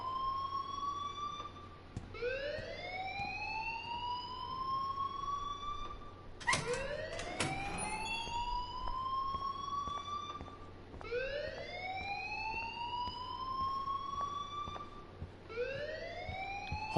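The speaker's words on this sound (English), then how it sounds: "please turn off that alarm since that's your job" A fire alarm in the video game Life is Strange sounds as a repeating rising wail, each sweep climbing and cutting off about every four seconds, steady and fairly loud, with a brief clatter partway through.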